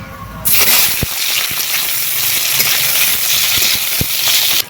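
Chopped onions tipped into hot mustard oil in a wok, with a loud, dense sizzle starting abruptly and hissing steadily throughout, with a few sharp clinks of a utensil against the pan, close by.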